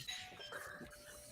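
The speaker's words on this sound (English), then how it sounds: "Ding dong. That's our doorbell." A doorbell chimes faintly in a home, a soft ding-dong tone heard at a distance over quiet room noise.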